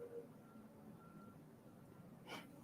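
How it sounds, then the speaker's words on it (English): A lorry reversing outside, its faint backup beeps sounding as a few thin, distant tones under quiet indoor room noise, with a brief breathy sound near the end. "Hope you can't hear the lorry outside."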